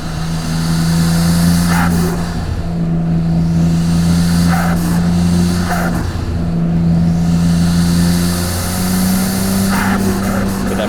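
A 1993 Nissan Skyline R32 GTR accelerating hard out of a corner on a mountain touge road, its engine droning loud and close, with pitch rising and dropping through several shifts.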